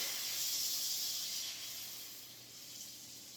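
Hot oil in a pan gives off a steady, fairly quiet sizzling hiss for the whole stretch, easing off slightly toward the end, with no talking over it.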